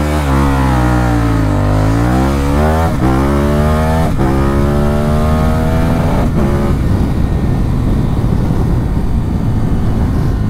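A KTM Super Adventure 1290 S motorcycle accelerates hard from 0 to 100 km/h, its engine climbing loudly through the revs with a few quick gear changes before settling into roaring wind and engine noise at speed.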